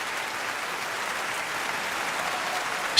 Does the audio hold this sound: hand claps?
yes